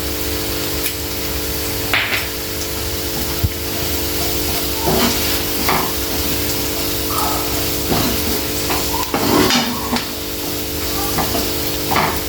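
Onions and egg frying in a pan, seasoned with chilli powder and salt: a steady sizzle runs throughout, broken by a few scrapes and stirring clicks from a spoon, close and fairly loud, with no talking.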